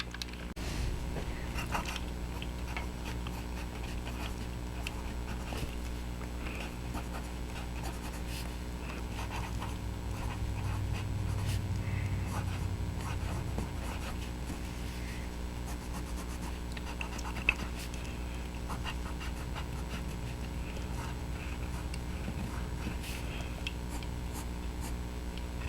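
A double broad fountain pen nib scratches and glides across paper in soft, close strokes, a faint continuous scritching with small irregular pauses in a quiet room.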